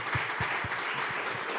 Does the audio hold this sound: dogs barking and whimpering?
no